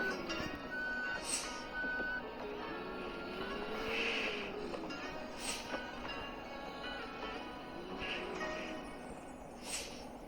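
Reversing beeps from a bus in a bus-driving video game, high repeated electronic tones sounding at intervals over a steady engine drone, moderately quiet with no talk.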